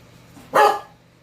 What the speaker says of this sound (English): my dog's barking because someone's at the door